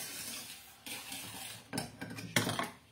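A utensil scrapes and clinks against a metal pot as a thick caramel mixture is stirred, the strokes growing louder and quicker toward the end.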